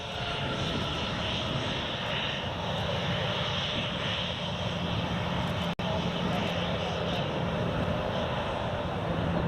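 An airliner's engines run at full power for a crosswind takeoff at Newcastle Airport, a loud, steady jet roar with a high whine layered on top and a brief dropout midway, with a voice faintly present.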